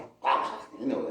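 A man imitates a dog's bark with his voice, producing one short, loud, throaty bark-like burst that trails into a lower growl.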